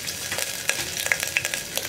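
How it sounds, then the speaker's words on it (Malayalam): Crushed ginger fries in a pan for a potato curry, with a close, bright sizzle under repeated scraping strokes of a spoon stirring it and a few sharp clicks; nobody talks. "ഇഞ്ചി ഒന്ന് ഇളക്കി കൊടുക്കുക."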